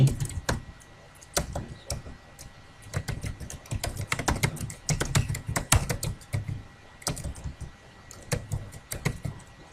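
A computer keyboard clatters with quick, irregular bursts of keystrokes as a street name is typed in, close and clear with brief pauses between runs, no voices.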